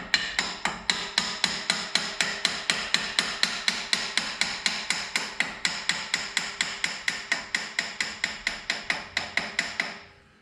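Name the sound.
hammer tapping brake pads in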